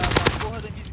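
Several sharp, rapid gunshots in the video game Call of Duty: Warzone burst out in quick succession, loud and close, then fade into a low background hum.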